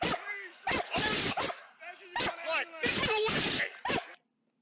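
A police K9 dog during a use-of-force arrest in Racine County, barking and yelping in loud close bursts with short whimpers, mixed with shouting voices and scuffling.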